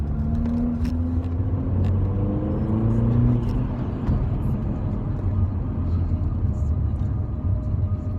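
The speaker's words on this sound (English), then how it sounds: "sports mode just makes the car sound better" A Mercedes AMG engine in sports mode pulls with a steady rising drone and road rumble from inside the cabin, continuous and fairly loud throughout.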